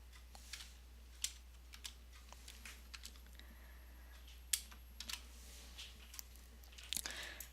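Light, quiet computer keyboard typing while code is erased, with sparse, irregular key taps and a few sharper clicks over a steady low electrical hum.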